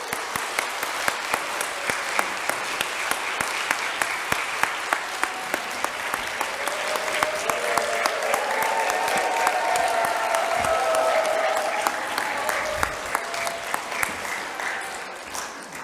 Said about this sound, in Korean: 신부님을 뜨거운 박수로 모시겠습니다